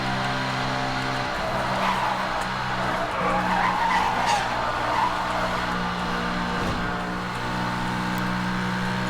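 A car speeding along a highway in the racing game Need for Speed: Hot Pursuit (2010), its engine roaring steadily and loudly throughout with tires squealing and skidding, no talk.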